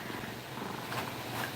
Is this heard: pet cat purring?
yes